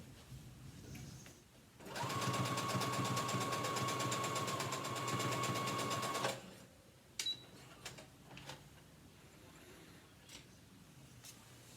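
A sewing machine stitching the shoulder seams of a dress runs in one steady, fast, loud burst of about four seconds, then stops, followed by a few small clicks and handling noises.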